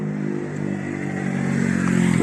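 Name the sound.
motorcycle speeding past on an avenue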